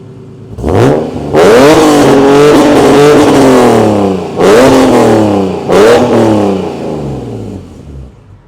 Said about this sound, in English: let's take a quick listen to this exhaust